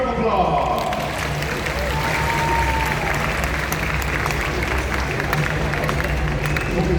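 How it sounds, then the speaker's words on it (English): An audience claps at an open-air birds-of-prey show at Bird Paradise Singapore, sustained applause of moderate loudness with crowd murmur and a voice speaking underneath. "Big round of applause."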